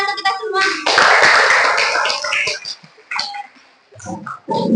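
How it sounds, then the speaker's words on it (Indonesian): Students in a classroom English lesson give a short burst of clapping with voices talking over it, then a few scattered taps and speech. "tepuk tangan untuk kita semua"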